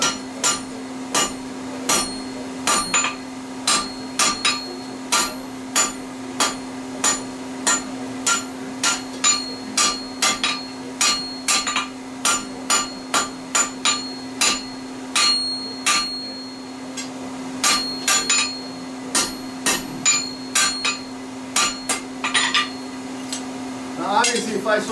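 A W2 steel knife blade for a hidden-tang hunter is hammer-forged on an anvil, with dozens of sharp, ringing metallic blows in quick bursts and brief pauses, loud and close over a steady forge hum.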